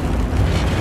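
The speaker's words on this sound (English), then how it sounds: "Friendly airstrike incoming." An airstrike explosion in a modern war video game: a loud, close, sustained low rumbling blast with dense roaring energy through the whole short moment and no voices.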